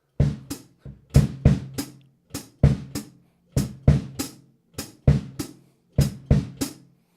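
A drum kit plays a steady bass drum and hi-hat groove, with crisp, close hits in a repeating pattern of paired strokes and no talking.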